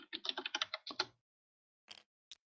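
Quick burst of close computer keyboard typing, a short flurry of crisp key clicks followed by silence and two isolated taps.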